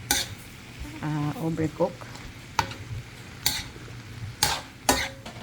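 Vegetables for pancit bihon are stir-fried in a pan: a low sizzle runs under sharp, repeated scrapes and clanks of a utensil against the pan, close up, with a person speaking briefly between the strokes.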